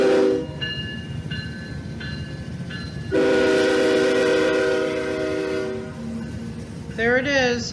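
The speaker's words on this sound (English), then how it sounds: "It looks like NS7617. Just coming down the line." A Norfolk Southern heritage locomotive comes down the line, its horn sounding in several short blasts, then a long loud chord over rumbling engine and rolling cars, with a Doppler drop at the end.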